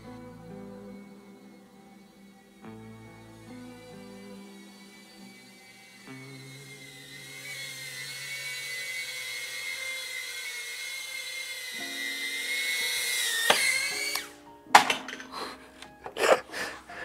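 BetaFPV Cetus beginner FPV drone flying, its small motors whining in a thin, rising tone that swells louder toward the end before a few sharp knocks and clatters, like a rough landing.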